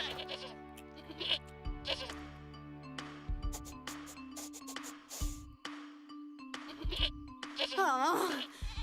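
Cartoon goats bleat several times in quick succession over a busy bed of music and sound effects, with a wavering cry near the end, in an animated Barbie scene while characters speak in French.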